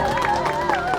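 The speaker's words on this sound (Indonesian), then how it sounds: "Boleh dong tepuk tangannya yang lebih meriah lagi" A studio audience at a televised children's preaching competition final applauds a prize winner, steady lively clapping mixed with crowd noise and a voice or music tone running underneath, loud and close.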